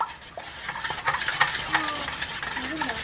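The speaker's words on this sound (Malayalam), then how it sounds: "എല്ലാം കൂടി നല്ല വൃത്തിയിൽ നന്നായിട്ട് മിക്സ് ചെയ്ത് കൊടുക്കണം കേട്ടോ." Chicken marinade with ginger garlic paste being mixed in a bowl, wet squelching and scraping strokes in an irregular rhythm, close and moderately loud, with faint background sounds and no clear speech.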